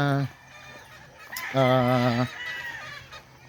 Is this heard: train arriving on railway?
no